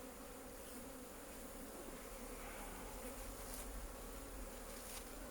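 A dense, continuous buzzing drone of many honey bees in a hive during a late-May inspection, steady and enveloping, with no pauses or talk.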